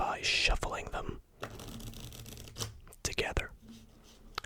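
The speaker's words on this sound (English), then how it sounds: "I'll create an even bigger mess by shuffling them" A deck of playing cards riffled and shuffled together in a quiet close-up setting, brief papery flutters and snaps near the microphone between softer handling sounds, with a soft voice at the start.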